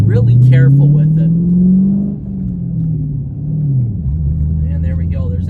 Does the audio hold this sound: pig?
no